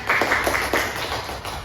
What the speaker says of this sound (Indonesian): Kasih tepuk tangan dulu semuanya.